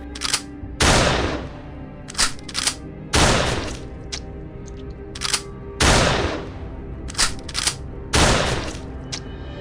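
Gunshot sound effects standing in for police shooting at a chimpanzee, several loud booming shots and short bursts spread irregularly across the stretch, each with a ringing decay.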